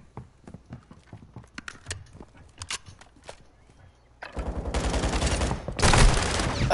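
A turret gun fires in a video game: a few seconds of sparse clicks and taps, then a loud, sustained burst of rapid gunfire in two dense volleys.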